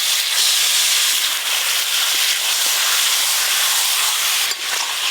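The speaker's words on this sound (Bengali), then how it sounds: "এবার মশলা মাখানো চিকেনগুলো দিয়ে দেব" Masala-coated chicken added to hot oil with fried onion, ginger and garlic, a loud, close, steady hissing sizzle that fills the whole stretch with no voices.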